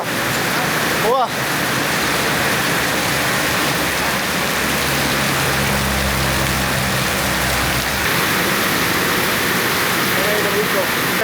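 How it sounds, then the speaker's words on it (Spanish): Heavy rain pours steadily in Indonesia, a dense hiss drowning everything, with a brief low rumble of a passing vehicle partway through. "Es la lluvia más fuerte en todo lo que estoy en Indonesia"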